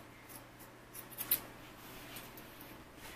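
Scissors snip through the seam of a cotton T-shirt being cut into an off-the-shoulder crop top. A few quiet, close rasping cuts land around the middle, followed by faint rustling.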